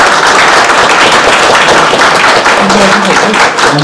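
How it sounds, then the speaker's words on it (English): Live-stream event audience clapping for panelists, a loud, dense burst of many hands close to the microphone, steady throughout with a few voices faintly mixed in. "So big round of applause for our panelists."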